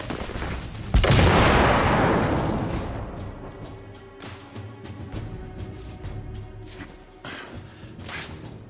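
A grenade bursts in The Order: 1886, a loud sudden boom with a long rumbling decay, followed by scattered gunshots in the distance.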